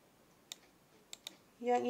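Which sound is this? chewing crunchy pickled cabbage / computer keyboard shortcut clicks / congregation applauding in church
computer keyboard shortcut clicks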